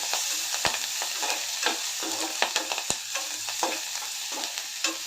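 Onion roasts in a pan with a steady close sizzle while a spoon stirs and scrapes, giving irregular clicks and taps on top of the frying hiss.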